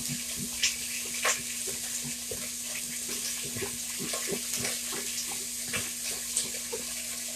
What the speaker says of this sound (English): I'm going to run over here real quick and stir this